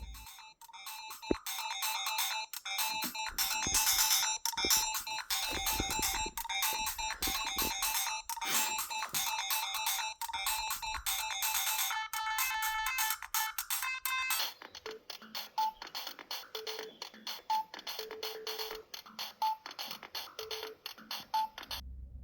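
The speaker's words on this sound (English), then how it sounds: "The soundtrack here is known for its bassy and full 16-bit depth sounds" Bright, chiptune-style 16-bit video game soundtrack heard over cheap headphones, with busy repeating synth notes, shifting midway to a sparser beeping pattern with a steady high tone.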